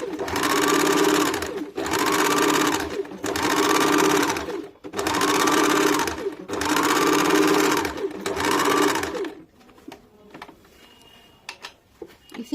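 A sewing machine stitches a deep-neck kurti in about six loud, even bursts with short gaps between them, then stops, leaving faint handling noise.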